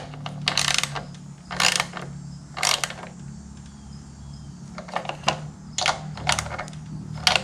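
Bolts being tightened on a 30-year-old generator under repair: a series of sharp ratcheting bursts in irregular short groups, close and crisp over a low steady hum.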